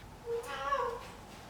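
Pet cat meowing indoors during a knitting podcast, one short rising and falling meow at moderate loudness, close by, with no talk over it.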